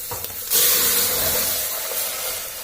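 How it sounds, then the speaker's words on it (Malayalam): Chicken stock poured into a hot pan for hot and sour chicken soup, a loud steady rushing sizzle and splash starting abruptly and continuing close up without talk. "ഇനി നമുക്ക് ഈ സ്റ്റോക്ക് ആണെങ്കിൽ നമുക്ക് അതിനകത്തോട്ട് ഒഴിക്കാം."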